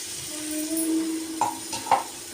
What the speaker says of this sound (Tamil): மசாலாவோட புதினா நல்லா மிக்ஸ் பண்ணி நல்லா வதங்க விடணும்.